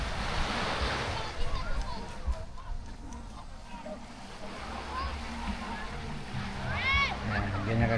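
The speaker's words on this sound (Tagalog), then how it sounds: "So ito yung dagat nila. Ang gandang dagat guys." Sea waves washing ashore at Dolores seaside resort in Samal, a steady rushing surf with wind buffeting the microphone, while someone talks over it.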